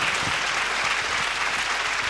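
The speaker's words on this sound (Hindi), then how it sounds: "यीशु के लिए बहुत सी तालियां।" A church congregation claps loudly and continuously during a sermon, a dense steady wash of applause from many hands filling the room throughout.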